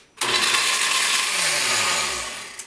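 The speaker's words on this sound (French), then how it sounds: "On met ça à liquéfier dans le blender" A blender liquefying vegan waffle batter of water and a pinch of salt, starting abruptly and whirring loudly and steadily for a couple of seconds before easing slightly at the end.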